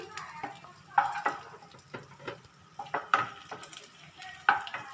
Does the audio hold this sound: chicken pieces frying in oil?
yes